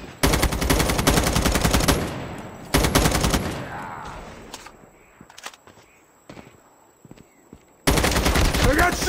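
Bursts of Call of Duty gunfire striking the player, loud rapid volleys with quieter gaps, a single sharp shot in between and a final heavy burst.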